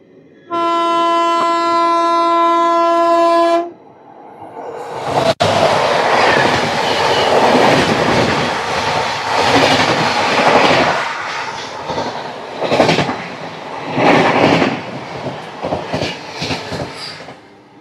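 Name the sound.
Special fare express train 05074 passing on the tracks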